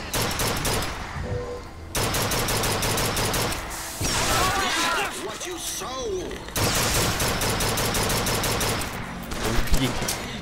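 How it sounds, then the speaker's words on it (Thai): Heavy gunfire in the shooter Bioshock Infinite, dense rapid bursts of automatic shots with short pauses, loud and close, mixed with game effects and someone talking over the shooting. "ยิงอะไรนั้นมากๆเลยเนี่ย"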